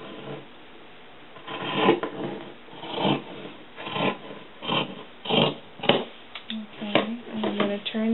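Scissors trim fabric at an angle for a doll skirt, giving a series of soft, close rasping snips and rubbing strokes in an irregular rhythm, with a voice murmuring faintly near the end.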